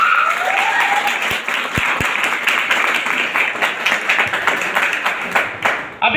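An audience at a health awareness show claps hard and steadily, the applause dense and sustained, with a voice and a few sharp individual claps standing out before it tapers off at the end.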